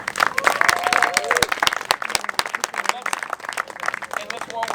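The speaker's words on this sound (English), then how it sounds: "one more big round of applause for all of these people" A gathered crowd claps for a group of people, loose and uneven individual claps in close succession with voices and cheering mixed in throughout.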